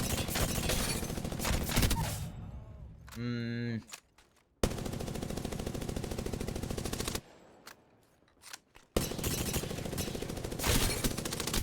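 Prowler fire in Apex Legends comes as long sustained automatic bursts, loud and dense, broken by short pauses, a brief rising reload or mechanical sound, and a quiet gap before firing resumes.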